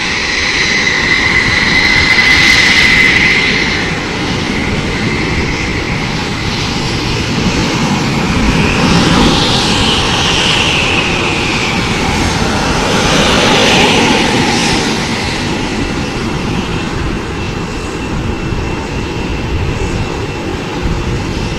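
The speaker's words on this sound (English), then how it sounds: "this aircraft has the markings of a winner as it now pulls to perform its signature maneuver one more time" At the Aero Show 2019 airshow, a light combat helicopter flies a sharp rudder-turn display manoeuvre, its loud engine roar swelling and sweeping past close by, then easing slightly while staying strong throughout.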